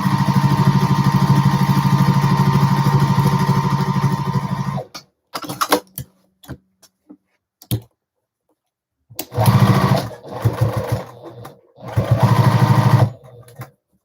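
Juki TL-2010Q sewing machine stitching a fabric keyfob runs in a fast, close, buzzing burst, then stops; after scattered clicks and silence, two shorter stitching runs follow.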